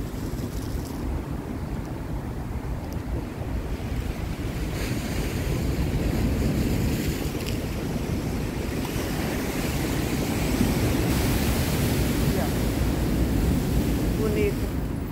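Ocean surf rolls continuously onto the shore beside steps near a fishing spot, a loud, dense wash of waves with heavy wind buffeting the microphone throughout.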